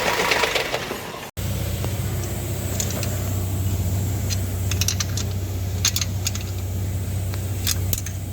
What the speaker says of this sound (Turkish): Dişli kısmından çatır çutur ses geliyor.